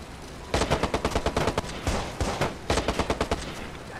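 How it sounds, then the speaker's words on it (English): Video game gunfire in Watch Dogs rattles out in rapid automatic bursts, close and loud, with a brief pause between volleys. "I can't see where any of the gunfire is coming from"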